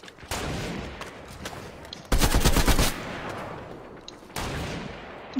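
Pistol gunfire in the video game Apex Legends, bursts of rapid shots cracking loudly in three separate clusters, with steady game ambience between them.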